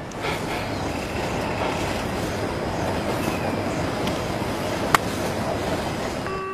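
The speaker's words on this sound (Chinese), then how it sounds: "怎么有火车声啊？" A train rumbles past at steady volume in the distance, with continuous rolling noise and faint clatter plus a single sharp click partway through, heard indoors at night.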